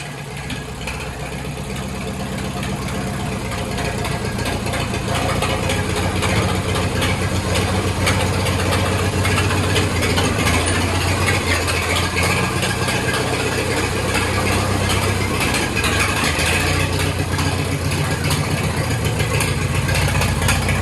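A tractor engine idles steadily and loudly for the whole stretch, a constant low chugging rumble with no voices.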